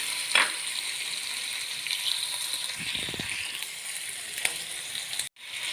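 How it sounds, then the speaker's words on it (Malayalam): Onions sauté in hot oil for a fish curry, with salt added, giving a steady, soft sizzle and a few faint stirring scrapes; no one speaks. "അപ്പോൾ ഇതെല്ലാം പെട്ടെന്ന് വഴന്ന് കിട്ടും."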